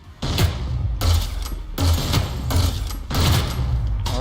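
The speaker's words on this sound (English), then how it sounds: "Oh, this is grenade launcher." A grenade launcher in the video game Hyper Scape fires in four heavy, booming bursts about a second apart, each with a dense mechanical rumble.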